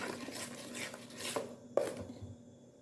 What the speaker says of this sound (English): And you mix everything together nicely.